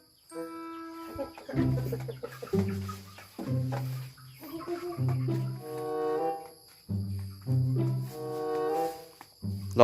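A chicken clucks repeatedly nearby in uneven, choppy bursts of squawking calls.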